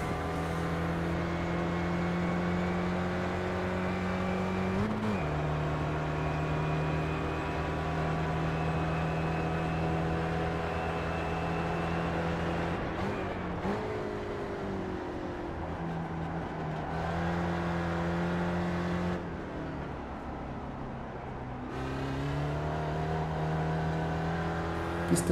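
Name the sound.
Spec Racer car engine in iRacing video game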